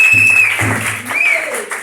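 A church congregation applauds during a service, a steady wash of clapping mixed with held tones and scattered voices.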